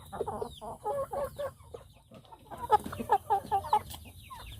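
Kampung chickens kept in a small home-scale flock cluck in two short bursts of quick, rhythmic calls, fairly close with a quiet gap between, no voices.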